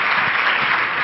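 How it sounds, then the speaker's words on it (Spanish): A conference audience applauding steadily before a keynote lecture, a dense wash of clapping at moderate volume throughout the short moment. "para quien pido un fuerte aplauso antes de su exposición"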